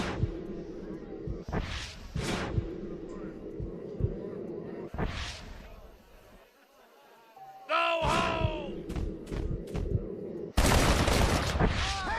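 Gunfire rings out in the Red Dead Redemption video game as shots are fired at a tossed hat. Several sharp, separate cracks are spread through the stretch with game sounds and voices between them, and the loudest blast comes near the end.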